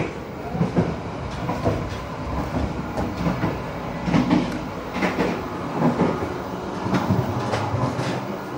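Inside an Argo Bromo Anggrek passenger train travelling between Surabaya and Jakarta, a steady rumble of the carriage runs throughout, with soft rhythmic clicks of wheels over rail joints recurring every second or so at moderate loudness.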